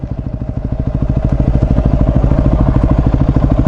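Honda CRF450X dirt bike engine running loud and close while riding, a rapid steady firing chatter with a rough mechanical clatter that holds constant throughout, no talking.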